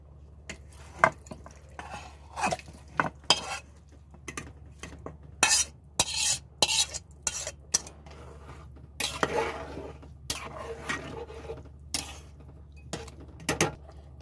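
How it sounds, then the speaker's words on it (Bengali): Cooked, braised chicken goes into a pot of chicken dum biryani, with irregular clinks and scrapes of a metal spoon against the pot, some sharp knocks, and quiet gaps between them. "তো এখন কষা চিকেনটা আমি দিয়ে দিচ্ছি।"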